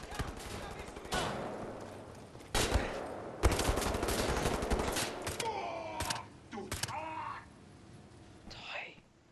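Gunfire in the shooter game Wolfenstein comes in loud bursts and sharp single shots separated by quieter gaps, with someone speaking softly between them.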